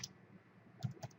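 Case notes are typed on a computer keyboard as a few quiet, separate key clicks, close by, in an otherwise hushed room.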